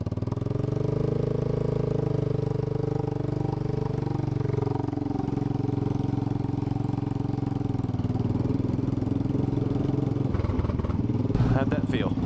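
A Royal Enfield single-cylinder 500cc motorcycle thumps steadily as it rides along, a loud continuous engine drone with a low pulsing beat that shifts pitch midway and grows rougher near the end.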